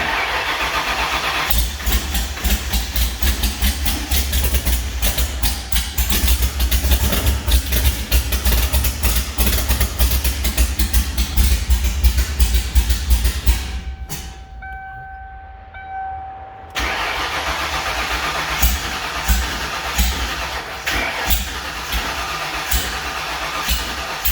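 Engine with a newly fixed fuel regulator cranking and running rough and loud with a rapid pulsing beat, cutting out briefly with a faint beeping, then restarting into a steady close idle; no talk.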